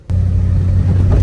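A Chevy Tahoe's 5.3 LS engine idles while warming up, a steady, loud low rumble heard up close that starts abruptly and holds evenly for about a second.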